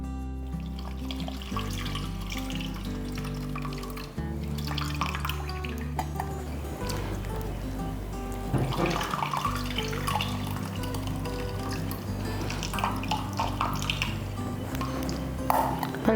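Hands squeeze and squish a gooseberry-sized lump of tamarind pulp soaked in water for tomato dal rasam, producing soft wet squelches and drips that continue under steady background music.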